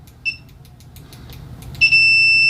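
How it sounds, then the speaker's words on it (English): Continuity beeper on an Innova 3320a multimeter with stock test leads: a brief high beep, then after a pause a loud steady tone that latches on and holds to the end, over faint background hiss. "We've got that continuity annunciator right there, letting us know we are good to go."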